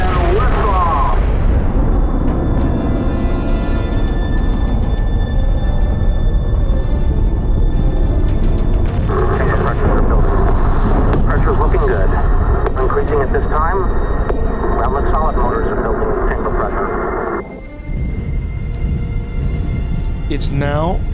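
A rocket lifts off with a heavy, continuous rumbling roar that stays loud and dense throughout, with a voice speaking over it.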